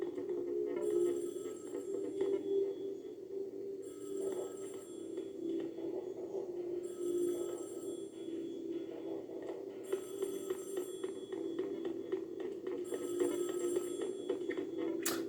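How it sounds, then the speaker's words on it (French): A telephone rings repeatedly in the Splatoon 2 Octo Expansion video game, steady ringing bursts recurring every few seconds over a constant humming game soundtrack. "Répondre au téléphone."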